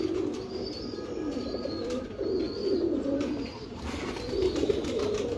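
Several 7 star pigeons coo in repeated soft, rolling calls, a few birds close by over a steady background murmur.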